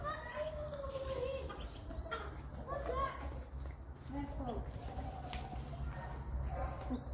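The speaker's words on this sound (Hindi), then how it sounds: "ये स्पेशल इंग्लिश मुर्गी हैं।" Chickens of a special English breed cluck in a London park, scattered clucks and bird calls mixed with children playing and people talking nearby over a low background hum.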